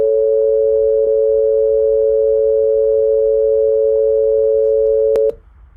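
A steady, loud accordion interval sustains for about five seconds with a beating pulse much like a telephone busy tone, then two sharp clicks and an abrupt cutoff.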